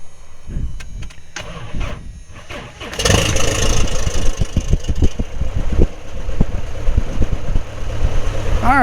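A Carbon Cub aircraft engine catches at about three seconds after a few slow clunks and cranking, then settles into a loud, steady idle that carries on to the end.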